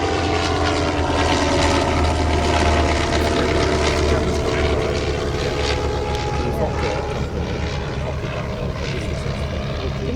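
Vintage propeller aircraft flying at the Shuttleworth airshow, a steady droning engine roar sustained throughout at moderate distance, with a commentator speaking over it.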